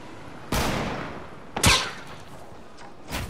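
Gunfire in a Fortnite match: a few sharp broadband shots with a gap between them, loud and close, with no talking over them.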